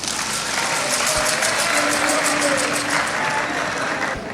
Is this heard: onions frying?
no